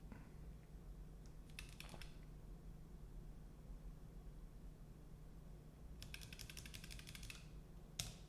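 Short bursts of computer keyboard typing during a coding session, quiet and fairly close, with clusters of rapid keystrokes near the start and end separated by a long stretch of faint room hiss.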